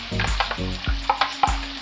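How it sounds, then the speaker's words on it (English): Oil sizzling steadily in a hot pan with onion and garlic, broken by a few sharp stirring clunks and scrapes. "And as you can hear, it's starting to sizzle."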